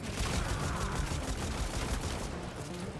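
A cannon fires in the Warframe video game: a dense, rapid barrage of loud, close blasts running continuously for a few seconds.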